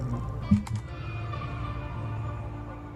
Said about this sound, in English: that's just me pressing the keys